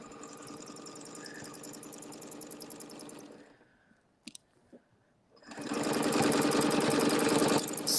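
Sewing machine stitching a quarter-inch seam with blue thread, a fast, even mechanical whir that runs for about three seconds, stops with a few small clicks, then starts again louder and continues.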